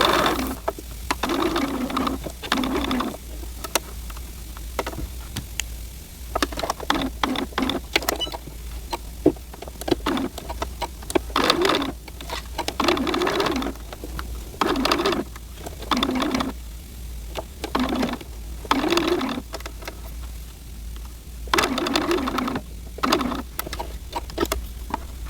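Sewing machine stitching the lining of a Smart Doll dress onto its fabric at a quarter inch, close and steady whirring in repeated bursts of a few seconds each, separated by short pauses.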